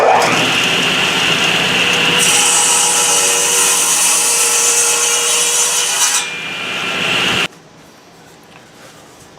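A hardwood board for a cheese cutting board is pushed through a table saw, producing a loud, sustained blade-cutting whine and rasp. It ends abruptly, leaving quieter running motor noise.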